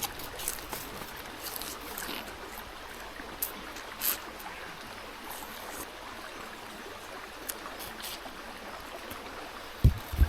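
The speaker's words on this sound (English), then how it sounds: "behind me have this river, or it's a stream, just flowing nicely" A small river or stream flows steadily outdoors, a soft continuous trickling wash at low level, with a few faint knocks and no speech.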